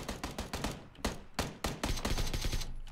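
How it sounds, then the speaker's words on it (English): Rapid bursts of automatic gunfire in the battle-royale game PUBG, several loud volleys of repeated shots with brief gaps between them, close and dominant. "Guess we're opening fire."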